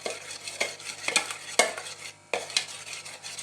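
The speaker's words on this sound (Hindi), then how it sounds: "अब इन सब चीज़ों को मिक्स करूँगी।" Chopped Russian salad ingredients being mixed in a bowl with a spoon, a run of close, crisp scraping and clinking strokes with a short pause near the end, with no one speaking.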